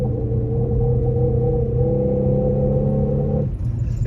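A car engine in sport mode holds a loud, steady, droning rev with a rough edge from a slight misfire, then drops off abruptly near the end.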